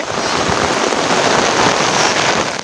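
Heavy rain pours onto waterlogged, flooded ground in a dense, continuous hiss, loud and close with no break and no voices over it.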